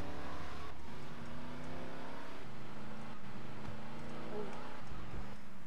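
A car in the video game GTA Vice City drives on with a continuous engine drone that shifts pitch in steps as it revs and changes gear, with game noise mixed in.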